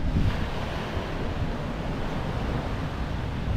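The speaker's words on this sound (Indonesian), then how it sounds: "karena kan ini pantai jadi kabur-kabur" Wind and surf at a beach in Bali make a steady, loud, broadband roar that blends wave wash with microphone wind buffeting, continuous without pauses.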